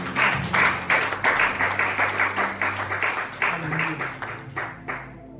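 A church congregation bursts into lively applause, a run of rhythmic clapping that fades toward the end, with voices murmuring underneath.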